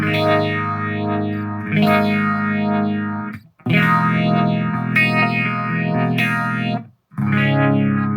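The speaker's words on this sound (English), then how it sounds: "I was a little bit confused since it says echo phase. Green phaser." Distorted electric guitar chords through a JBL practice amp with a green phaser effect, sweeping swirling whooshes across sustained strums, loud and close, played in several phrases with brief gaps between them.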